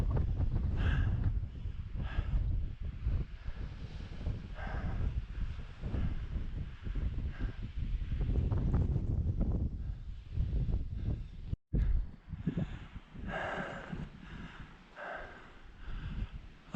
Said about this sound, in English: This wind is absolutely killer.